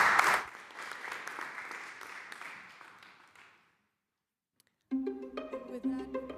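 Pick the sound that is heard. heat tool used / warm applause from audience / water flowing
warm applause from audience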